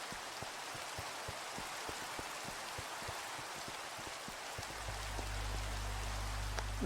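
Steady rain patters in a video game, a dense even hiss with faint drips, joined by a low droning hum in the final seconds.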